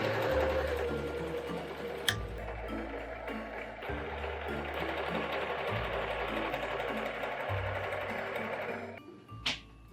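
A sewing machine stitches the ears of a Furby Halloween costume, its motor running in a steady close whir in repeated stretches separated by brief pauses.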